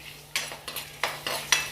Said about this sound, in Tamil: பச்சை மிளகா நல்லா பொரியட்டும், இஞ்சியும் நல்லா பொரியட்டும்